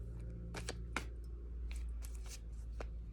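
Soft riffling and flicking of cards being shuffled, a few quick bursts over a low steady hum, quiet and close.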